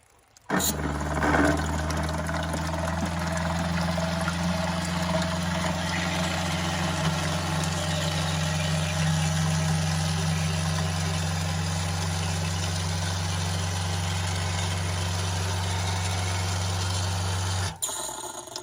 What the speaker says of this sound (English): When I plug this in, that float switch ought to trip the pump and tell it to start up.